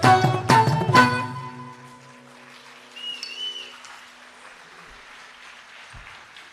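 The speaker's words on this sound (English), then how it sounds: "One more huge round of applause for the star of the evening." An audience claps at the close of a Bharatanatyam arangetram, a short loud burst over fading musical tones, then the hall goes quiet apart from faint bird chirps.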